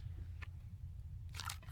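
A homemade crunchy NeeDoh-style squishy is squeezed, giving a brief gritty crackle, then a longer crunchy burst, close up over a low background hum.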